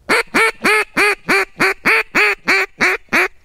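Eleven evenly spaced, loud quacks come from a duck call blown with pressurized air, each note cut off sharply by the tongue acting as a valve, in a quick steady rhythm.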